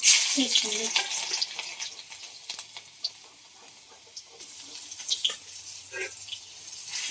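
Cumin seeds, mustard seeds and garlic sizzling in hot oil, a steady hissing spatter with small pops, fairly close and continuous throughout.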